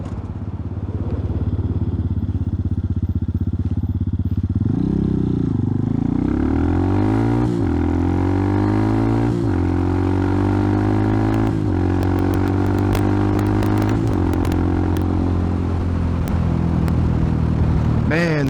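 A Hawk 250 motorcycle idles then accelerates hard, engine note rising and dropping through several quick gear shifts, loud and close with wind rush, while a rider talks over it.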